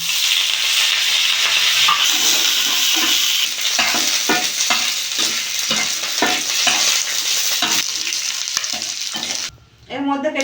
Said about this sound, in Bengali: তিনখানা এলাচ দানা ভালো করে নেড়ে নেব এর মধ্যে দিয়ে দেবো কারি পাতা